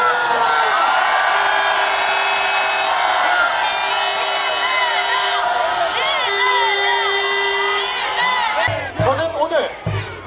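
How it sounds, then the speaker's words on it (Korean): A large outdoor protest crowd against dumping Fukushima nuclear plant wastewater into the sea roars with cheers, whoops and shouts. A loud sustained wave carries on, then breaks into scattered louder bursts near the end. "여러분 다시 한번 뜨거운 함성과 박수를 부탁드립니다"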